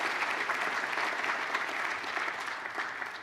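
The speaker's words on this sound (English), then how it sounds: "So if you can give her some applause" Audience applause at an awards evening, a full and sustained wash of many hands clapping, loud and even throughout, easing slightly toward the end.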